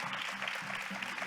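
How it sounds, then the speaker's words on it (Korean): Audience at a forum opening ceremony gives a soft, steady round of applause that sounds somewhat distant and continues evenly throughout. "여러분 따뜻한 박수 부탁드립니다."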